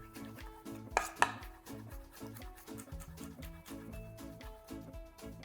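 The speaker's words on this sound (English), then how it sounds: "So I'm just slicing these peppers just to go a little bit thinner." Knife slicing peppers thinly into julienne strips on a cutting board, a few distinct cuts standing out clearly under steady background music.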